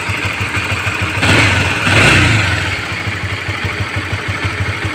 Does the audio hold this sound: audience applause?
no